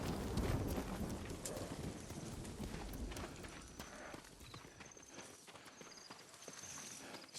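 Horse hooves clip-clop over rough ground in Ghost of Tsushima as the rider comes to a stop and dismounts, a busy patter of steps under wind that fades toward the end.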